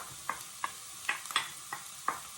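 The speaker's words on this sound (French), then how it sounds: "Une fois que l'huile est chaude, je vais verser un oignon que j'ai coupé" Chopped onion goes into hot oil and sizzles faintly. A series of sharp spattering pops and stirring clicks come at uneven intervals over a quiet hiss.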